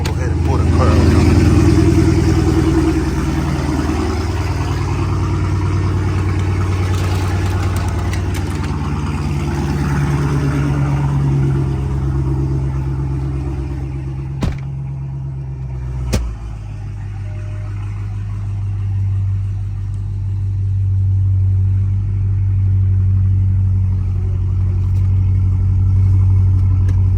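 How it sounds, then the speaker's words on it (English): A Hellcat Chrysler car engine runs with a steady, loud low rumble as the car is pulled out, holding mostly even with a couple of brief clicks midway. "So we're going to go ahead and pull the car out now."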